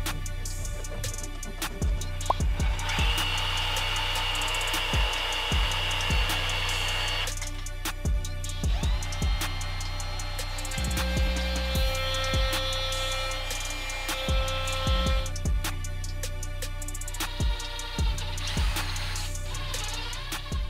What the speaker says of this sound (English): we'll cut a little piece out of here